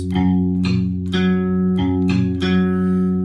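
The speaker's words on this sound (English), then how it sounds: "You're gonna play your root, and then you're gonna complete your power chord" Distorted electric guitar power chords struck one after another, four sustained hits ringing loudly with no voice present.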